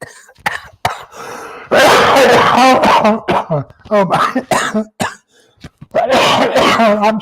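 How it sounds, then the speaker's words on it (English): Loud, harsh coughing fits close up from a person with pneumonia, broken by gasping breaths and a short spoken exclamation. "Please don't make me cough that loud"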